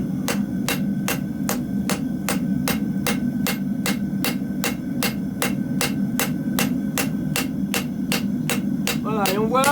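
A hammer rings sharply on hot iron at the edge of an anvil while onion-shaped iron pieces are forged, striking in a fast, steady rhythm of roughly twenty-five clanging blows over a constant low hum.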